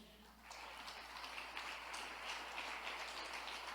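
Broad, continuous clapping from a church congregation, swelling after a moment and holding steady, somewhat distant.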